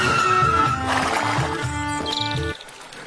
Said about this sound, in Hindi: घोड़ा अचानक दौड़ते हुए जंगल की ओर जाकर एक तालाब के किनारे रुक गया।